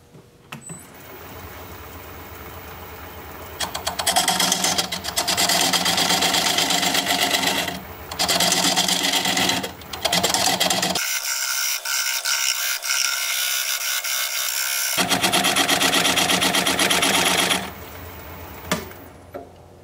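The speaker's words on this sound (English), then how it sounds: "Now I'm going to switch to this diamond point tool so I can put a dovetail on the side of this tenon." A wood lathe turns a bowl while a diamond point tool cuts a dovetail on its tenon, giving a steady rasping, whirring scrape in bursts with short pauses, close and alone.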